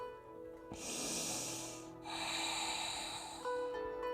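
A long, slow inhale through the nose during a relaxing evening yoga breathing practice, close and soft. A short pause follows, then a second deep breath. No one speaks.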